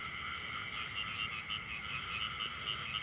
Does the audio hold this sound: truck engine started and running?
no